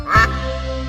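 A cartoon duck lets out a single bright quack near the start, loud and close, trailing into a sustained musical tone with no voices over it.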